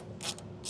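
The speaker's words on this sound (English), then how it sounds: "We have a T60 bolt that we'll remove." A ratchet removes a T60 Torx bolt from a cross member brace while a trailer hitch goes onto a 2024 BMW, giving two short bursts of quick ratcheting clicks up close.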